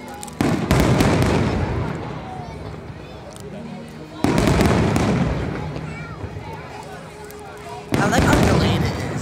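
Fireworks explode at SeaWorld: three loud, booming bursts a few seconds apart, each followed by crackling and a rumbling tail, with crowd voices faintly underneath.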